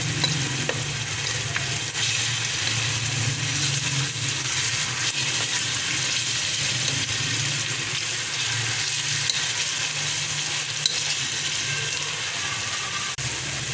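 Garlic and ginger paste fries in a pan for a Pakistani white chickpea dish, a steady broadband sizzle that carries on without a break throughout, with faint stirring and a low background hum underneath.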